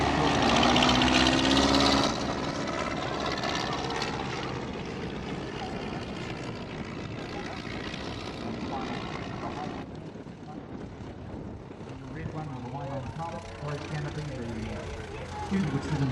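A vintage propeller airplane at an airshow drones overhead, its engine loud at first and then easing to a steady hum as it passes and descends, while a commentator talks over a public address system.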